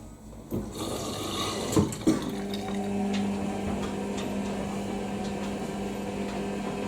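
An Indesit WIDL102 washer dryer clicks and thuds as it starts its cotton drying cycle, then settles into a steady low hum with a faint whirring drone, no talking.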